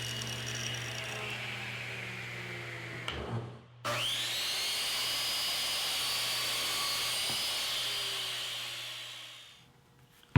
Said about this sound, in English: I get a chance to screw them together with the screw gun.